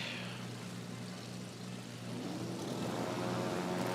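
A propeller aircraft drones steadily in World of Warships: Legends at a naval battle, a continuous engine hum that grows slightly louder toward the end, with no voices.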